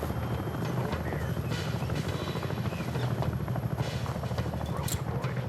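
Helicopter lifting off during a rope extraction, its rotor thrumming loud and steady from start to finish, with voices talking over the engine.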